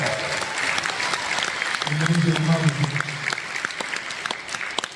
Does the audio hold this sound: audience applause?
yes